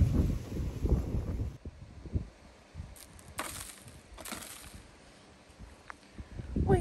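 Gusts of wind buffet the microphone outdoors on a hot summer day, rumbling low and uneven in bursts that rise and fall, with a few brief rustles and handling knocks in between.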